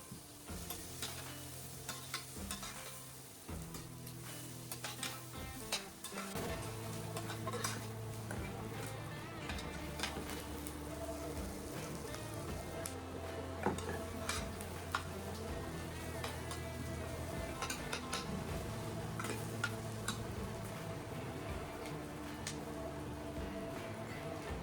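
Sliced onions fry in oil in a pan, stirred steadily with a utensil that scrapes and clinks against the metal while a constant low sizzle runs underneath, close and fairly quiet.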